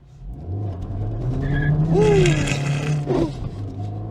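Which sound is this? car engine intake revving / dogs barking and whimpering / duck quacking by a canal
car engine intake revving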